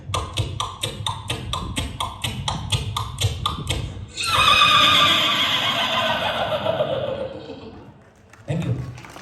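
A comedian at a Mumbai stage show imitates a horse by voice, first clicking out rapid rhythmic hoofbeats, then letting out a long, loud whinny, followed by a short burst of audience reaction.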